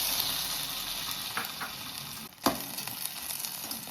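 A chopped tomato fries in oil in a pan, giving a loud, dense sizzle that holds steady. One sharp clatter briefly breaks it before the crackle resumes, close by and with no voices.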